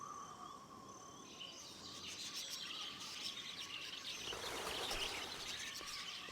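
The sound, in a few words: bird calls at night, Octopath Traveler II video game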